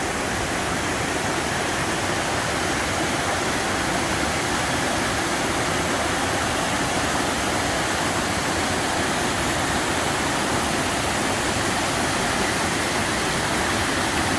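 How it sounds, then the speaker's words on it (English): A steady, loud rush of falling water from a waterfall in North Cascades National Park, broad and unbroken throughout with no voices. "So this is our own private waterfall right now."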